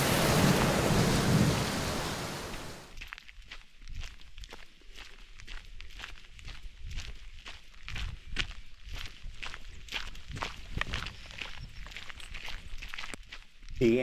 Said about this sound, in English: it began to really rain with rivers on the trail, combined with lightning and thunder